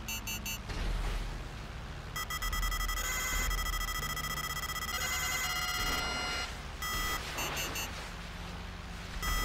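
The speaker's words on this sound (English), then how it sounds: "there's a buzzer right near me" A buzzer alarm in the video game GTA Online sounds in repeated electronic bursts of tonal beeping with short gaps between them, loud and steady against background game noise.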